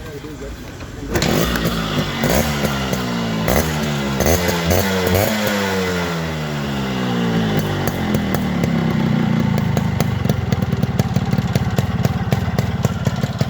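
A Yamaha RX 100 two-stroke motorcycle engine starting up and revving loud and close, the pitch rising and falling through repeated throttle blips before settling into a rough idle with crackling pops.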